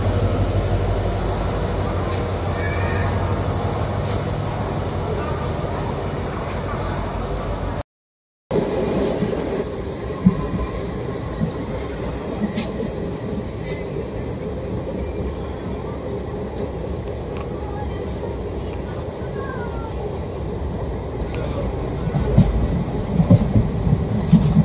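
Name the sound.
train arriving at the station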